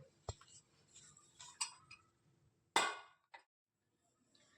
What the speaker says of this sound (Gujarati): હવે આપણે કુકર ખોલીશું.